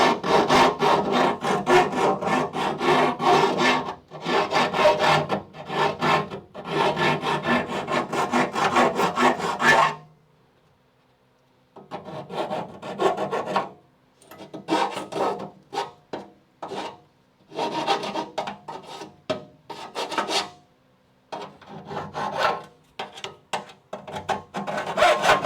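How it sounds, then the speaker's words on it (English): A hand file rasps across metal to remove burrs from a Crew Cab Charger restoration part, in rhythmic bursts of scraping strokes that are steady at first, then shorter and broken up by pauses. "So I'm just gonna get a hand file right here"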